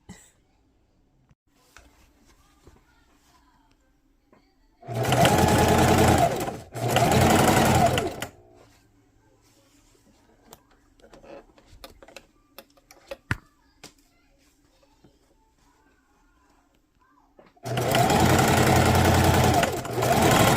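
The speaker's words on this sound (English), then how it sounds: "then I'm going to sew on a tag that says handmade with love" Sewing machine running in short bursts as it stitches a tag onto a fabric shopping bag, three loud whirring runs separated by quiet gaps with faint clicks and fabric handling.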